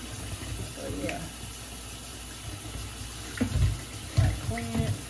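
A beef roast is rinsed under a running kitchen tap by gloved hands, a steady splashing hiss of water with a few louder surges of water striking the meat near the end.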